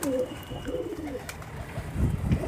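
Sajanpuri pigeons coo softly nearby, low throaty burbling calls repeating over faint background noise.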